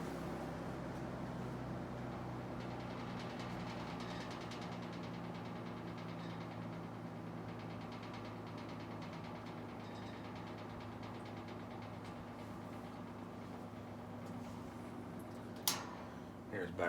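Steady, low mechanical hum and whir of a vintage International 96-043 box fan running continuously on speed two at moderate volume, with a faint rattle against the grill and a brief click near the end.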